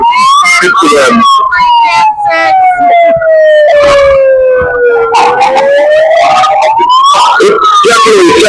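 A passing vehicle's siren wails loud and close outside a jail in Washington, DC, rising and falling in a long sweeping tone over street noise, with voices underneath.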